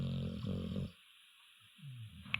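An English Mastiff cross Staffordshire Bull Terrier dog snorts and rumbles close by in low, throaty bursts, breaking off into a short pause before starting again.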